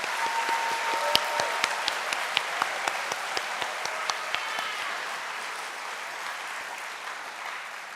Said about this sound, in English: So give yourself a huge round of applause.